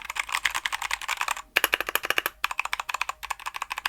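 Fast, crisp clacking of keys on a Keychron K2 V2 mechanical keyboard, loud and close, in rapid typing bursts separated by a brief pause.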